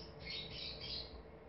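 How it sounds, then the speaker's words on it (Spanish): Birds squawk and chirp outdoors in a dense, continuous chorus of harsh calls, moderately loud throughout the short stretch. "Gracias, pájaros, por darle dramatismo al momento."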